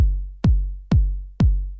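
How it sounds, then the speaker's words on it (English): Four deep, punchy kick drum hits from a Roland TR-909 drum machine, house-music style, land evenly spaced with a clicky attack and a booming low tail, heard alone. "in house music, you'll frequently hear this kick"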